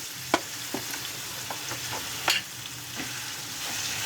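Marinated chicken frying in hot oil in a pan on a normal flame, a continuous close hiss with scattered pops and crackles.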